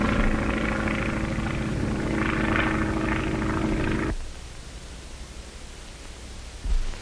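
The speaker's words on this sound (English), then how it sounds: "P-26A pursuit planes, the harnessed Hornet of the air." A P-26A pursuit plane in flight gives a loud, steady propeller-engine drone that cuts off abruptly partway through, leaving a much quieter background hiss.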